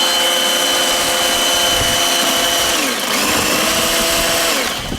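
A battery-powered lithium-ion chainsaw's loud, continuous high-pitched motor whine with a dip and recovery in pitch as the blade bites into wood, steady and close throughout.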